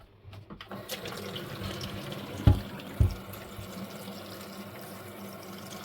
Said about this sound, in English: flush her thoroughly. So any old water to the reservoir is flushed out.